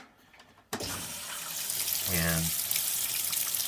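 A Kenmore Series 100 HE top-load washer starts filling, water suddenly rushing in and then running as a steady, bright hiss, with someone talking briefly over it.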